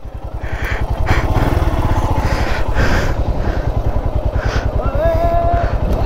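A motorcycle engine chugs and revs loudly up a steep hill climb near the camera, its rapid pulsing note rising and falling continuously, with a voice briefly audible over it.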